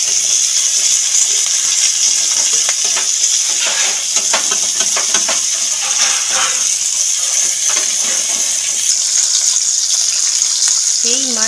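Fish shallow-fried in a little oil, masala fish fry, with a steady loud hiss and sizzle throughout, crackling pops scattered across it and no talk over it.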